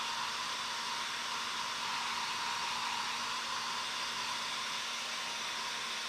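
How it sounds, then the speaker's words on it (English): A hair dryer blows steadily at close range while drying paint and hair on a Princess Bride foam diorama, a constant even whooshing hiss with a faint motor hum and no pauses. "paint and hair using the hair dryer"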